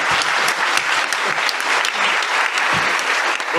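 An audience at an orientation event applauds its panel with sustained, even clapping from a full room, loud and continuous throughout.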